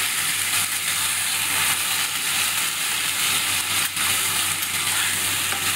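Soaked rice and softened vegetables stir-fried in a pan, with a steady close, loud sizzle and hiss throughout and faint scraping as the mixture is turned.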